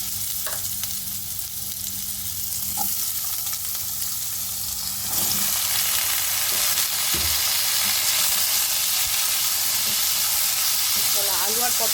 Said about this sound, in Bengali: তাহলে আলু আর পটলটা একটু ভাজা হোক